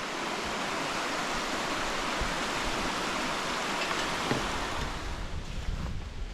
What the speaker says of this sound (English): That's a little whitewater action.